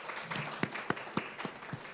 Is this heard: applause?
yes